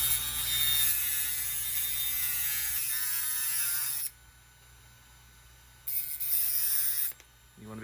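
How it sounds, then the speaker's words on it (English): Dremel cutting wheel slicing through a small motor shaft for an HO scale steam engine kit, a loud high-pitched whine that holds steady, drops away, then surges briefly again. "it's easiest to cut shafts like this by using a cutting wheel on a Dremel. I'll do that here."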